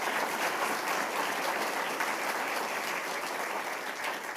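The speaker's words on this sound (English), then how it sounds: "Big round of applause to all of you." Sustained applause from an audience at a community forum, given for a group of about nineteen volunteers: dense, steady clapping at full strength throughout, with no talk over it.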